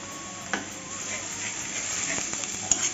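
Ginger paste and garlic paste frying in a pan with oil, giving a steady low sizzle with a few light scrapes and stirring clicks from a spoon, close by and fairly quiet.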